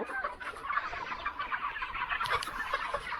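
A flock of poultry-farm chickens clucks and chatters constantly at close range, many overlapping calls forming a busy, steady din with no voices.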